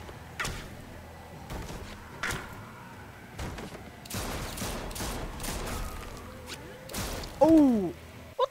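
Gunfire in The Walking Dead video game, scattered shots and sharp cracks at moderate level spread across a few seconds, with muffled impacts between bursts and no talk.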